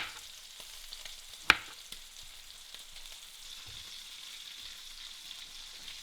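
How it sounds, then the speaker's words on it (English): Plantain slices fry in lamb fat in a Lodge frying pan, giving a steady close sizzle and hiss broken by one sharp click early on. "Time to cook the plantain in my favourite Lodge frying pan here."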